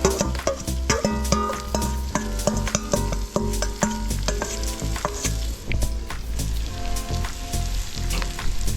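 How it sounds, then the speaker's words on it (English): Seasoning being stirred into curry lamb sizzling in a pot, with a steady frying hiss and repeated scraping knocks of the spoon close by, no voices. "Mix that into that curry"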